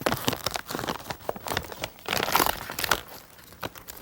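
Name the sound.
bag of tortilla chips being ripped open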